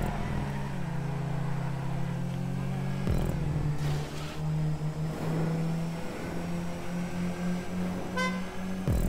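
In a racing video game, car horns toot briefly a few times over a steady engine drone, with a person talking faintly.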